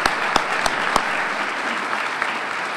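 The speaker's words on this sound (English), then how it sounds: "How about a round of applause for a double?" Audience applause at a Latino Heritage Breakfast at Elgin Community College begins with a few sharp claps, then swells into sustained, fairly loud clapping from a seated crowd.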